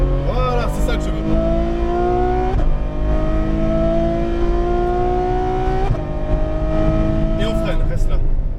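Ferrari F12 Berlinetta accelerating hard around the Exotics Racing Las Vegas track: a loud, close engine note climbs steadily in pitch, with brief dips at each gear change before it pulls upward again.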